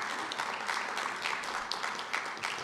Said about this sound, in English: I'd like to get a round of applause for them for all their hard work